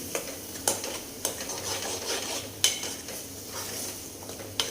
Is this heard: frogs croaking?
no